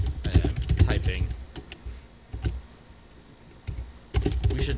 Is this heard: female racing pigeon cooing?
no